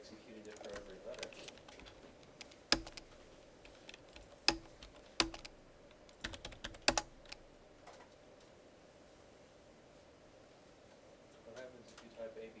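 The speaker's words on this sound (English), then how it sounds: "why am I typing those letters?" Keys clacking on a computer keyboard in irregular short bursts with a few sharper, louder strikes, set against a steady hum during a programming lesson on switch statements and loops.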